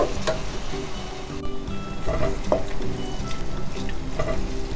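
Ground beef for spaghetti bolognese sizzling and frying in a pan as beef broth is added, a loud steady hiss with scattered spoon scrapes and stirring clicks, close up and without talk.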